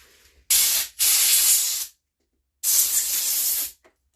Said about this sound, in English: Danny doesn't like the air compressor.